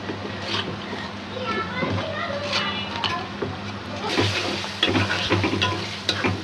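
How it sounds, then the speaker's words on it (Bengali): Ginger-garlic spice paste with chilli frying in a pan for a Bengali shutki bhuna, sizzling steadily while a spoon stirs and scrapes, heard under a person's speech with children's voices faintly in the background. "সুন্দর করে মশলাটা কষাইয়ে"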